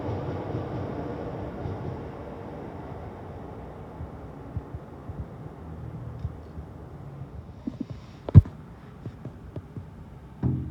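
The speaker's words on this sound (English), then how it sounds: "This is 378209 forming the 1345 London Overground service to Watford Junction." A London Overground Class 378 electric train, unit 378209, rumbles past at Primrose Hill with a steady low roar that gradually fades, followed by sharp clanks and knocks from the wheels and track near the end.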